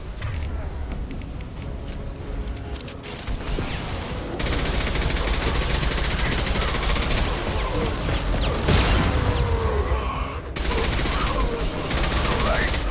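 Heavy weapon fire in the sci-fi shooter Mass Effect 2, a loud sustained barrage of rapid gunfire and booms rolling on for most of the stretch, with brief shifts in intensity and no clear talk.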